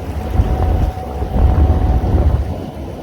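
A fishing boat cruises under a Lowrance Ghost electric trolling motor, heard as a close, steady rush of water and wind buffeting with a low rumble, no voices.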